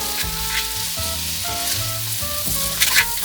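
White onion and garlic fry in butter and olive oil, a steady close sizzle with occasional stirring scrapes, while music-like tonal lines run underneath throughout.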